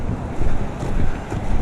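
Strong wind buffets the microphone on the Truckee River in California, a loud, steady roar with gusting surges and no voices.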